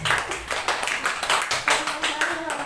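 A church congregation clapping along during a sermon, a steady run of overlapping handclaps with rhythmic pulses, moderately loud and close, with no talk over it.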